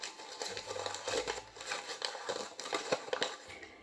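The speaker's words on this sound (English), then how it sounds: "the best way to make texture with paper is just to crumple it up" Paper is crumpled by hand for texture in a layered landscape artwork, giving continuous close crinkling and crackling with sharper snaps, no voices.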